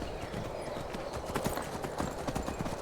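Horse hooves galloping in the Skyrim video game while riding, a quick steady clip-clop rhythm close by with no talk over it.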